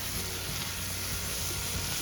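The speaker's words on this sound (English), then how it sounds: "And we're gonna turn up the heat and just let it sizzle for a bit." Onion and seasoning sizzle steadily in a hot pan while fish is cooked, a dense continuous frying hiss close to the microphone with no talk.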